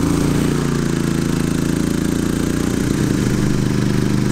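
A Champion dual fuel propane/gasoline generator runs loud and close, with its exhaust rotated to the side, giving a steady mechanical drone with a rattling, pulsing low end and no gaps.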